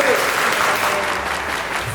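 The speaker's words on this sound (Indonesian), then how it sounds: "Tepuk tangan untuk kita semua." Audience applause at an MC school speaking event in Surabaya, a steady, dense clapping from a seated crowd that fills the whole moment at moderate loudness with no talk over it.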